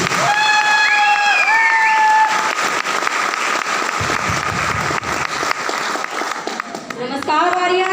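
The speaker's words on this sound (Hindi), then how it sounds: "मैं चाहूंगा कि उनके लिए एक बार जोरदार ताली होनी चाहिए।" Audience applause at a Safeshop gathering, a crowd clapping steadily for several seconds, mixed with a sustained tone and voices over a sound system.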